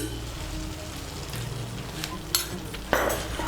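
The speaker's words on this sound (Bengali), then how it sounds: "টক দইটাকে ভালো করে মিশিয়ে নেব। মিশিয়ে নিয়ে মশলাটাকে আর একটু কষিয়ে নেব।" Spiced masala being stirred with whisked yogurt in a frying pan for aloo dum: a low, steady sizzle with scraping spoon strokes, then a sharper scrape and a louder burst of frying near the end.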